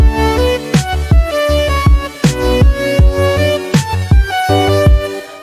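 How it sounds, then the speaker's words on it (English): Bright synth lead playing a simple melody in an electronic game outro track, over a pulsing bass and drum beat, loud and continuous with no talk. "this synth is the next thing I came up with"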